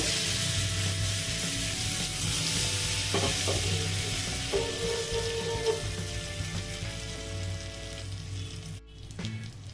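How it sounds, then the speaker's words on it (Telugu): Hot oil tempering of chana dal, urad dal, mustard seeds, cumin, curry leaves and dried red chillies poured into peanut chutney, giving a loud, steady close sizzle that crackles on and then cuts off abruptly near the end. "ఫ్రై అయిందండి చట్నీలో వేస్తున్న తాలింపు"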